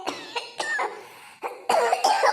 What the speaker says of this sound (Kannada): ಕೆಮ್ಮು ಕೆಮ್ಮ